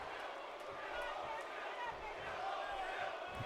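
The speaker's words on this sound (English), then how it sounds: "You can hear the Kill Owens kill chants now emerging in this crowd." Wrestling crowd in the WWE 2K17 video game during a Royal Rumble match, a dense and steady roar of many voices that swells into chanting throughout.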